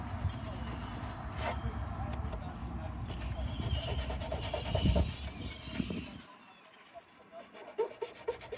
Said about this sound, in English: Here you can see me sanding away and taking a good look at the projecto